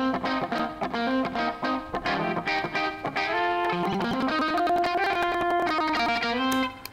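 An electric guitar runs through the Guitar Rig effects plugin in FL Studio, giving a distorted, processed tone. It plays a continuous busy riff of chords and single notes, loud and unaccompanied by speech.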